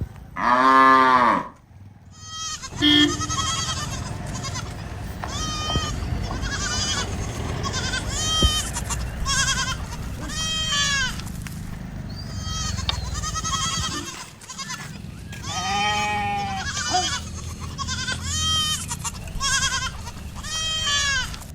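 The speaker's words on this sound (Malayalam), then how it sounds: "ഒരുപാട് ആടുകളും മാടുകളൊക്കെ റോഡ് സൈഡിൽ തന്നെ ഉണ്ടാവും" Cattle mooing and goats bleating again and again on a roadside near Gundlupet, several animals calling close by over a steady low rumble.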